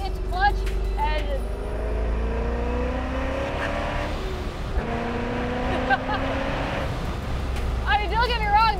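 A built track car with a stiff clutch and hard-shifting transmission drives loudly in the cabin, its engine droning steadily with rising and falling pitch as gears change, with bursts of chirping wheel or interior noise near the start and end.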